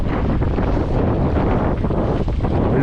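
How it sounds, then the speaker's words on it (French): A strong wind gusts across open water and roars steadily against the microphone in a loud, constant buffeting rumble, with no talking. "Le vent s'est levé, hein."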